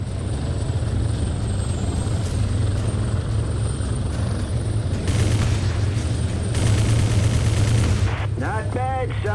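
A helicopter flies in the video game Prototype 2: a steady, loud rotor drone holds throughout, with gunfire and explosive bursts in the middle and a brief voice near the end.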